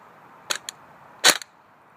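A custom-built airsoft ACR rifle fires single semi-auto shots with 0.25 gram BBs: two short sharp snaps, then a louder crack with a quick follow-up click, each standing alone against a quiet background.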